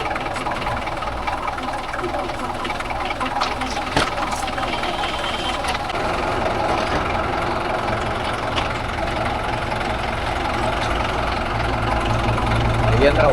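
A tractor engine idles steadily while a JCB 3DX backhoe loads lake soil nearby, a continuous low rumbling drone with a faint knock, under a man's speech.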